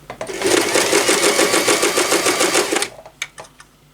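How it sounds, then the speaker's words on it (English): A sewing machine runs a straight-stitch hem around fabric wrapping paper, a fast, close, even needle rattle for nearly three seconds before stopping, followed by a few faint clicks. "we're just going to sew a straight stitch all the way round to hem it into place"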